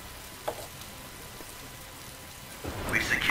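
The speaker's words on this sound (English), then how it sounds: "Oh, that rain though." Rain and rumbling thunder in the Star Wars: Empire at War strategy game, a steady wash of rain that swells into a louder storm surge near the end, with no speech over it.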